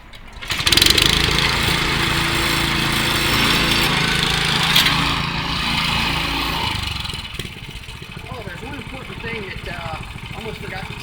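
A Ryan Lawnaire walk-behind lawn aerator roars loudly at close range right after starting, runs steadily for several seconds, then drops back as someone talks over the lower rumble.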